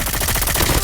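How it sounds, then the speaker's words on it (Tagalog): Rapid gunfire in a shooting video game, a dense run of loud bursts in fast repeated rhythm with no voice over it. "May gunshot po dun."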